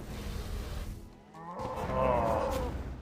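Cows moo in the video game Old School RuneScape, a drawn-out lowing call rising over background game sounds and fading after about a second and a half.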